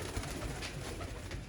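Teddy pigeons coo softly in a short, low, murmuring burst from a loft in Lahore, close and fairly quiet, with no voices.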